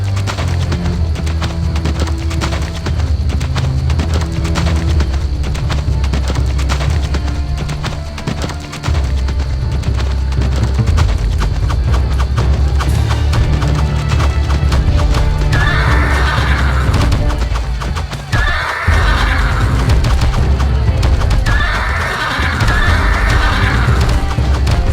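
Horse riders in the Empire Earth strategy game gallop in a continuous rumble of hooves and battle noise, with several loud neighs and whinnies breaking through near the end.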